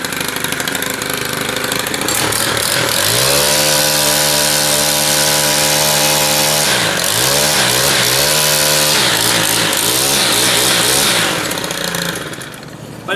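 Gas-powered string trimmer engine revving loudly and steadily for most of the stretch, its pitch dipping and climbing through several throttle changes before tapering off at the end, with no talk.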